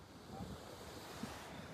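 Sea surf washes in with a strong current under a grey, rainy sky, heard faintly as a steady low wash with gusts of wind buffeting the microphone.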